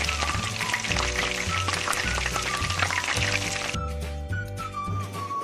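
Pakoras sizzle steadily in hot oil, a continuous loud crackle under prominent background music with a melody and bass line.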